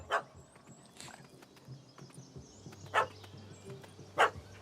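A dog barks in the Witcher 3: Wild Hunt video game, three or four separate loud barks spaced a second or more apart over quiet ambient game sound.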